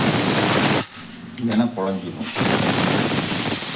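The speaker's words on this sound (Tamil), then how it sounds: "ஒரு விசில் வட்டும் காமிக்கிறேன் ஸ்டீம் வந்துடுச்சு" A pressure cooker cooking tender jackfruit vents steam with a loud, close hiss that stops briefly while a voice speaks and then returns at full strength.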